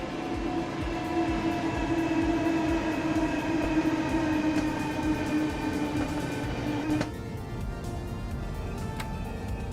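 Class 395 high-speed electric train in Train Sim World 3 driving past outside a tunnel: a loud, steady rumble with a sustained tonal whine that cuts off sharply near the end, leaving a quieter rushing tail.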